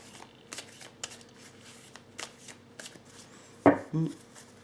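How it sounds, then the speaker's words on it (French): Tarot cards are drawn and handled, giving soft scattered slides and taps, then a sharper slap and shuffle of card against card near the end, quiet and close with no voices. "je vais prendre encore 4 cartes"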